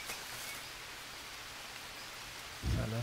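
Steady rain hisses throughout a jungle scene in the survival game Green Hell, a soft even wash of downpour with a louder low rumble rising near the end.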